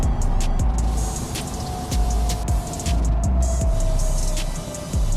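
A Morgan 3 Wheeler drives along with a loud rasping engine note and rushing wind, punctuated by repeated sharp gear-change bursts and revving surges.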